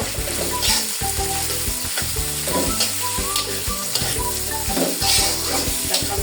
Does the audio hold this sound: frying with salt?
yes